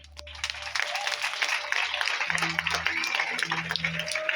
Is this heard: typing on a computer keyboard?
no